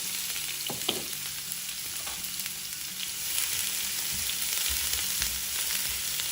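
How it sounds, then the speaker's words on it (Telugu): Chopped onion fries in oil with mustard seeds and cumin for a mirchi salan, a steady close sizzle broken by a few scraping stirs of the pan, with no talk. "ఉల్లిపాయని బ్రౌన్ కలర్ వచ్చే వరకు వేయించుకోవాలి"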